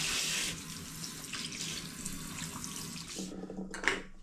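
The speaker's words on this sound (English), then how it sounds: "I'm just going to give it a little rinse first" Water from a running tap splashes steadily into a glass demijohn as it is rinsed, a close, continuous hiss and gurgle that ends in a few brief knocks and clinks.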